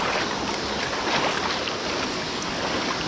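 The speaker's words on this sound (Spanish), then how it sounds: "Ya voy aquí caminando en el agua." Steady broadband splashing and rushing of water as someone wades through a shallow river in North Carolina, continuous and close with no voices.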